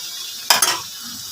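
Mutton sautéing in a pan gives two quick loud sizzling scrapes of a stirred pan at close range, in the middle of an otherwise quiet kitchen moment.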